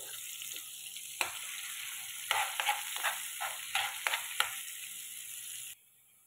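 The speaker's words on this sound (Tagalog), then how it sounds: "Sunod natin ilagay yung ating garlic. Haluin natin konti." Garlic sizzles steadily in hot butter in a pan, a constant bright crackle with several louder stirring scrapes and pops, then the sizzle drops off abruptly near the end.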